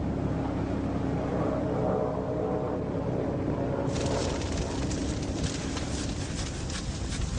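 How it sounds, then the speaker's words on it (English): Aeroplane engine droning steadily during a wartime air raid, a continuous broadband rumble that turns brighter and rougher partway through, moderately loud, with no voices. "I could hear the sound of the engine."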